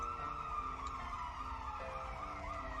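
Ambulance siren in a video game, a steady wailing tone that holds loud and continuous with a shift in pitch partway through, no talking over it.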